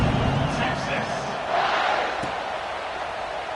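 A stadium crowd murmurs and cheers in the Madden 26 football video game, a broad steady roar with a swell partway through, under a commentator's voice.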